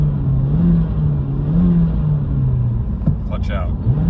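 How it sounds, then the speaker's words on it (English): A 2022-2024 Honda Civic Sport with the 2.0 engine and manual gearbox, free revving with the clutch pedal pressed, holding a steady low drone that rises and falls gently, then quickly spikes near the end. "you push the clutch in and free rev the engine"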